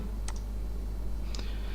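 Two light, sharp mouse clicks on a computer while opening an article on a website, about a second apart, faint against a steady low background hum.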